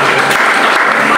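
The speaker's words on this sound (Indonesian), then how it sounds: "Berikan tepuk tangan buat Tuhan." Loud, dense applause rises from a worship congregation at a church service in a Jakarta apartment, a short unbroken burst of many hands clapping close by.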